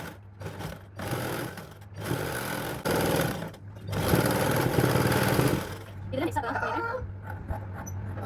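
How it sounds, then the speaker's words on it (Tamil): A sewing machine stitches a princess-cut garment seam in short start-stop runs of rapid mechanical whirring, close by, with a person talking in between bursts. "நார்மலாக இது ஈஸியாக ஸ்டிச் பண்ணிக்கிறேன்"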